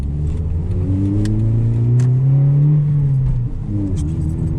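A car engine on a night drive, holding a steady mid-pitched drone that rises as it revs and then drops sharply during a gear shift before picking up again, heard from inside the cabin with faint rattles.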